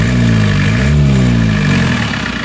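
An Isuzu Panther diesel engine revs up and holds high, its loud, steady drone rising once and settling back, close by with no talk over it.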